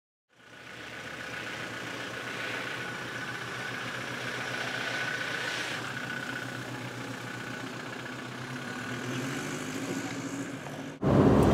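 The engine of a Toyota Hilux with upgraded suspension hums steadily on a trail, a continuous mid-pitched drone with a louder surge right at the end.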